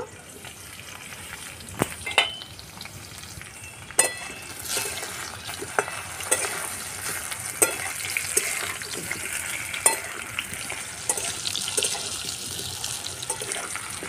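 Potato pieces frying in oil in a pan, a soft continuous sizzle with scattered clicks and clatters of utensils, fairly quiet and close.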